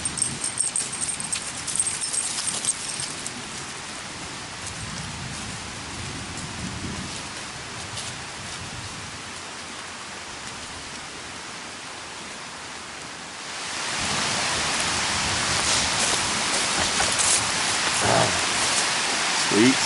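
Rain falls in the woods as a steady, close hiss, growing noticeably heavier and louder partway through.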